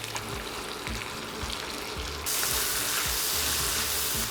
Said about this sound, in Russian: Добавляем в казан растительное масло и отправляем обжариваться репчатый лук.